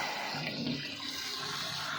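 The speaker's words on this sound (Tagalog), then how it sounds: "dagdag tayo ng tubig sa pan natin kasi medyo na ano eh pababa na yung level ng tubig" A steady rush of water poured into a crayfish pond, splashing continuously and fairly loud throughout, with no voices.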